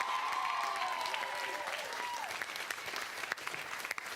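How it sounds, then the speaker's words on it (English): An audience at a high school quiz bowl match between Carlmont and Terra Nova claps steadily throughout, a dense indoor applause with a voice heard beneath it. "And a very lively crowd today."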